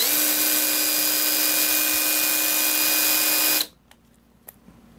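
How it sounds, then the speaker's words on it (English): A Milwaukee M12 FUEL cordless bandfile, converted from a cut-off tool, runs with a loud, steady high-pitched whir for several seconds, then shuts off abruptly, leaving a quiet room with a few faint clicks. "Cordless Milwaukee Bandfile. Absolutely love it. Handy tool to have in the shop."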